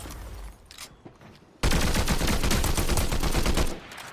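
Gunfire from Fortnite bursts in after a quieter start, a loud, rapid string of shots lasting about two seconds before it cuts off, with no one talking over it.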